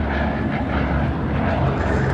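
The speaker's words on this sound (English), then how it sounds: "As the Blenheim passes by there" Loud, steady roar of a Bristol Blenheim piston-engined bomber passing close overhead at a Duxford air display. The deep engine drone fills the whole moment.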